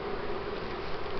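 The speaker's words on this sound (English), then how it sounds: "the bees are already collecting on her, smelling her new pheromone." Honeybees buzz in a steady, close, continuous drone as they gather on a newly introduced queen during a hive split.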